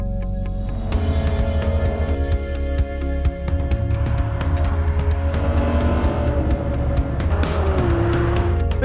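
Ferrari 812 Superfast and its huge engine driving hard on a mountain road, a loud continuous roar that rises and falls through the revs and shifts gears, heard from close by inside the car.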